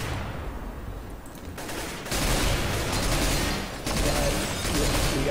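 Rapid bursts of gunfire in a Counter-Strike match, loud crackling volleys that fill the stretch, with a brief lull before shooting resumes and carries on to the end.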